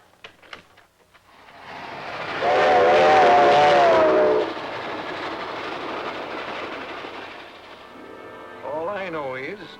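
A passenger train rolls along the rails in a 1940 serial, a steady rumble building to a loud, close pass with a brief whistle-like tone, then fading under a short bit of talk at the end.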